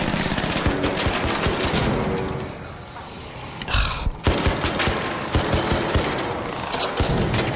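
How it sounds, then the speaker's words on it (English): Rapid grenade launcher fire in a first-person shooter video game, dense repeated booming blasts in a continuous barrage, briefly dropping off midway before the volley resumes, loud and close. "I'm gonna shoot this guy with lots of grenades"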